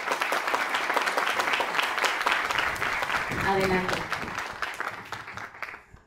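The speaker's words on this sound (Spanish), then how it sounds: "Los aplausos, por favor." Audience applause at a plaque unveiling ceremony, with a steady wash of clapping held for several seconds. A voice speaks briefly partway through, and the clapping thins and fades toward the end.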